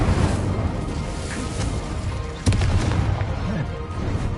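Bombarda blast spell from Hogwarts Legacy gameplay, with a sharp booming explosion hitting once midway through a dense, loud bed of continuous game battle noise.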